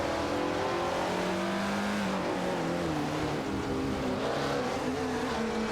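Ferrari 365 GTB/4 Daytona and De Tomaso Pantera GTS cars from 1972 race in a video game, engines droning loudly and steadily with shifting revs and gear changes, several cars overlapping.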